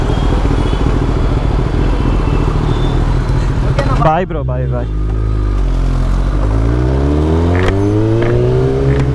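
A Kawasaki ZX-10R with a half-worn clutch plate rides through Nizampet traffic, its engine droning steadily, then climbing in several rising revs, close and loud, while people talk over it.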